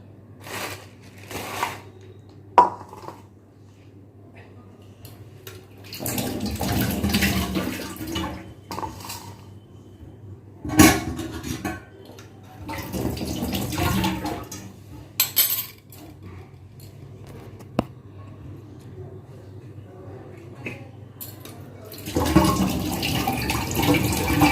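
Cups and plates washed under running water at a sink, the tap gushing in several bursts between quieter stretches, with occasional clinks of dishware.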